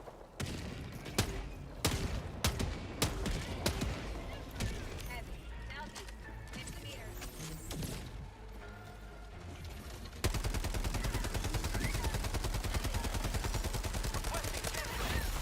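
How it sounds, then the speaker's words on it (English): Cover fire in the video game Helldivers 2: scattered sharp gunshots give way to sustained rapid automatic fire that runs steadily and loudly to the end. "I'll give him a little bit of cover fire"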